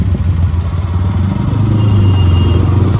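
A motorcycle engine rumbles steadily with a low, throaty exhaust note, holding a continuous drone that swells slightly louder toward the end.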